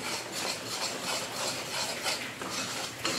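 Sugar syrup being stirred in a kadhai while making khoya burfi, giving a steady scraping, rubbing texture of a spoon against the metal pan, close and continuous with no talking.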